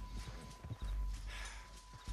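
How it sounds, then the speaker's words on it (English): Horse hooves clip-clop on the ground as a mount approaches in the Red Dead Redemption 2 game world. The hoofbeats are fairly close and move in an uneven rhythm against a quiet background. "My horse coming."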